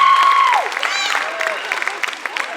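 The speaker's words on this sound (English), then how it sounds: "if we could just give a round of applause to our Wind Ensemble" Applause from a school concert audience for the wind ensemble, a steady broadband clatter of clapping at a winter concert, with scattered voices and whoops mixed in.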